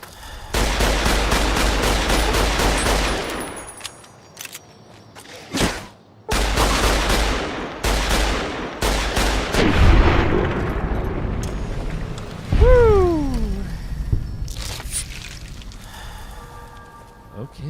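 Gunfire in Fallout New Vegas, loud repeated bursts and heavy blasts in long clusters with brief pauses, followed by a falling whine and scattered clatter near the end.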